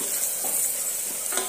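Two medium large onions, sliced lengthwise, sizzle steadily in a pan with garam masala for a vegetable biryani, with occasional stirring scrapes over a continuous close frying hiss.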